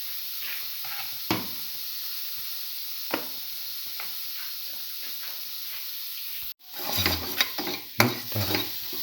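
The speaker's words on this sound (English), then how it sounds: "Mix thoroughly." Cinnamon scrambled egg with coconut being stir-fried in a pan: a steady sizzling hiss with scattered utensil scrapes, then a sharp cut to louder, busier clattering and scraping of the spatula against the pan.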